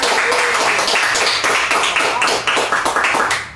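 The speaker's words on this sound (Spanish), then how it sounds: "Un aplauso para ella." An audience at a live musical gathering claps for a female composer, a brisk burst of many hands that stays full and steady, then thins out and fades at the end.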